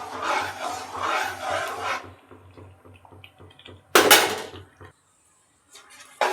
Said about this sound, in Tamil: கைவிடாமல் கிண்டிக்கிட்டே இருக்கணும் இல்லைன்னா கட்டி விட்டு போயிடும்